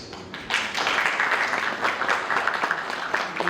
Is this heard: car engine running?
no